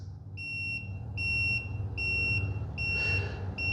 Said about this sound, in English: And there's an audible beep.